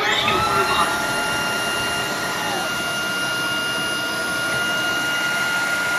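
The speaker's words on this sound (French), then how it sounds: "Là, il aspire à fond pour en fait mettre toutes les saletés ici." A Tineco Floor One S9 Artist cordless wet vacuum sits in its base station and suctions at full power, giving a loud, steady, high-pitched whine that holds evenly throughout with no voices.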